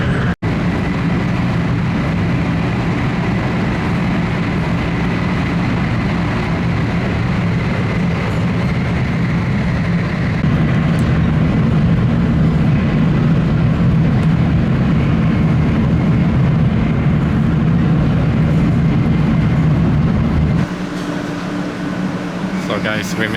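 Steady low rumble and whoosh inside a moving Hello Kitty Shinkansen bullet train in Japan, a continuous hum that drops noticeably near the end.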